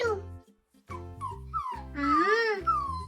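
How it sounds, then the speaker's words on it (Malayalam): A puppy whimpering in a children's story, a few high, rising and falling whines and yips in quick succession, close and clear. "ഒരു നായ്ക്കുട്ടിയുടെ ശബ്ദം."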